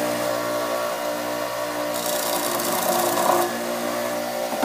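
Powered strop used for knife sharpening, running with a steady motor hum and a constant mechanical whir, fairly close, without talk.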